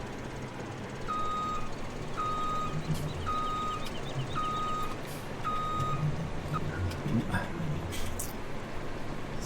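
Truck in Farming Simulator 17 backing up, its reversing alarm beeping steadily about once per second over a low engine rumble, with a voice talking faintly under it.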